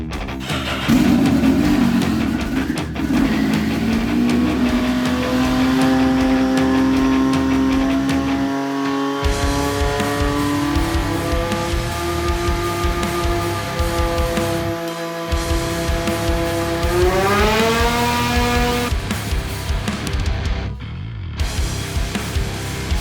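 A turbocharged engine makes a high-boost pull on a dyno. It is loud and close throughout, droning steadily, then climbing in pitch as the revs build, and cuts off sharply near the end.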